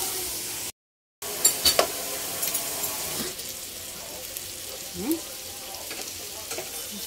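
Sweet and sour pork bola-bola meatballs fry in a pan, a continuous close sizzle with scattered pops and a few scraping stirs, fairly loud and free of speech after a brief dropout near the start.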